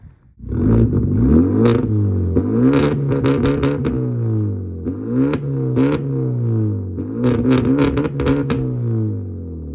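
A Hyundai Genesis Coupe engine with an aftermarket downpipe revs repeatedly through a loud exhaust, rising and falling in several throaty bursts with crackles between pulls, close by.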